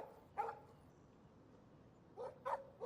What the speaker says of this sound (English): And a dog. Stop that. Stop. No barking.